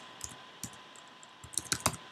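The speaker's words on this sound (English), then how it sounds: "And I know I'm typing pretty slowly" Slow, scattered keystrokes on a 13-inch MacBook Pro keyboard, a few isolated clicks then a quicker cluster of taps, close and soft over a faint room hiss.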